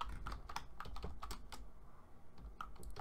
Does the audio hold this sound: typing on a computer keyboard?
yes